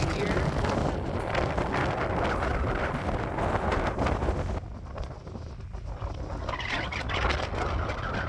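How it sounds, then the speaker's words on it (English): Gusty wind buffets the microphone outdoors at an RV area on Cape Breton Island, a loud rumbling roar that eases briefly before building again. "Still a little bit gusty around here."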